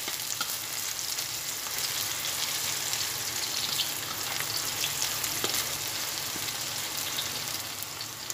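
Petai and pumpkin stir-frying in a pan, a steady close sizzle with soft scraping stirs and small crackles running continuously, no voices.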